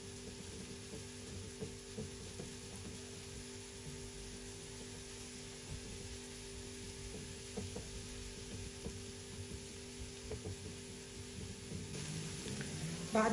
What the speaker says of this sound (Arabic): بقليها على الغاز